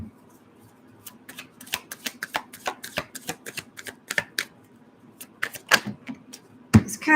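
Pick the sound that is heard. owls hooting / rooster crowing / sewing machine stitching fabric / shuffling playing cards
shuffling playing cards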